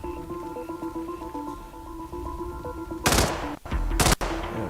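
Gunfire in the Hitman video game: two short, sharp bursts of shots cut through a steady low in-game drone and music, close and fairly loud, with no speech over them.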